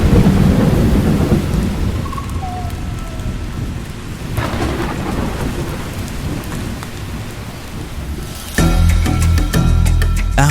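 Steady heavy early summer rain pours down while thunder rumbles low and long, swelling louder near the end.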